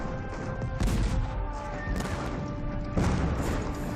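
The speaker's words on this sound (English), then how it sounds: "The French cannon pound the British defenses day and night." Repeated booming blasts of French cannon bombarding British defenses at Yorktown, with crashing impacts, dense and rolling, mixed with a faint musical drone underneath.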